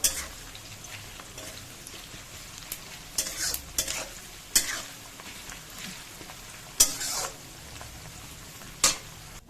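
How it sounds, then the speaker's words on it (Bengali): Onion frying in white oil in a pan, a steady sizzle broken by sharp scraping stirs every second or two, close and fairly loud, with no talking. "সাদা তেলে দেখো পেঁয়াজটা দিয়ে একটু হালকা মানে ভেজে নেবো"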